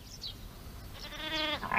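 A single sheep bleat rises near the end, nasal and wavering, preceded by faint high calls over quiet outdoor background.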